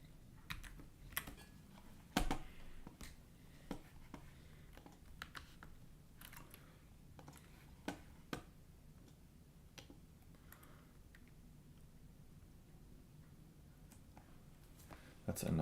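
Typing on a computer keyboard at a day-trading desk: irregular clicks and clacks of keys, moderately close and fairly quiet, continuing through the clip.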